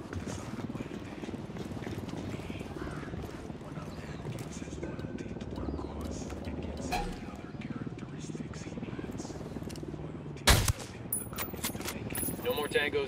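Gunfire in Ghost Recon Wildlands during a San Mateo prison story mission: a rattle of shots under helicopter rotor noise and radio chatter, with one sharp loud crack standing out near the end.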